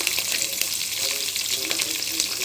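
Green chillies fry with urad dal in hot oil for a carrot pulihora tempering, a loud, dense, continuous sizzle with no talking.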